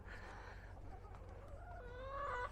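Chickens on a small homestead cluck and call, with a rising run of sharper squawks near the end over a steady low background hum.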